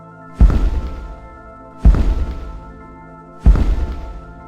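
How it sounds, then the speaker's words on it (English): Three heavy, booming thuds land at slow, even intervals, each ringing out with a long rumbling decay like giant footsteps. "you hear the sound of almost like explosions or thunderous impacts, like the giants are marching in the background"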